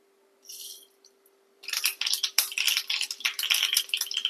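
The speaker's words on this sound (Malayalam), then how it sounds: "കടുക് പൊട്ടിക്കാം." Mustard seeds crackle in hot coconut oil for a Kerala egg thoran, beginning with a brief sizzle and then bursting into dense, rapid popping that stays loud and close until the end.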